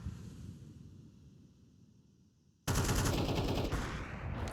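Gunfire in Counter-Strike 2 during a Malta national qualifier match, a quiet background rumble then a sudden loud burst of rapid automatic shots continuing to the end, with no talk.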